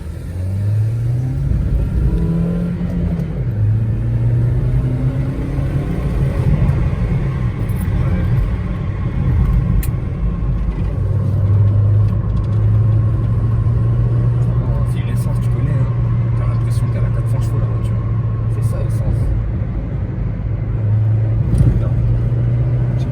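A Ford Focus 2 sedan running on LPG, its engine and exhaust droning steadily from inside the car through slow traffic, with gentle rises in pitch as it accelerates and a speaking voice over the top.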